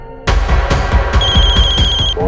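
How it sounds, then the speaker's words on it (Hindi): A telephone rings loudly in a tense crime-drama scene, with rapid bell-like trilling pulses repeating in a steady rhythm close by and no talking over it. "फोन उठाओ वीरेन, फोन उठाओ"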